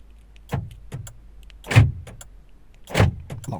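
A Vauxhall Opel Corsa E being locked and unlocked with its key: a few sharp clunks of the central locking, two of them prominent, close by with no talk.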